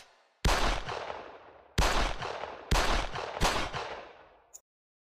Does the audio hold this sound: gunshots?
yes